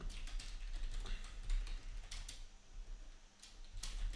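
Typing on a computer keyboard: scattered light key clicks in an irregular rhythm, fairly faint and close, with no talking over them.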